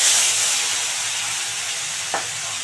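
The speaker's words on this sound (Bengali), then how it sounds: "মাছটা ভালো করে ভেজে নেব।" Fish frying in white oil in a hot wok, a steady close sizzling hiss throughout with one brief clack near the end, no voices.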